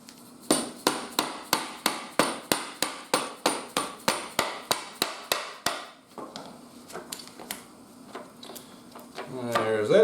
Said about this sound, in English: I'm going to go get a dead blow hammer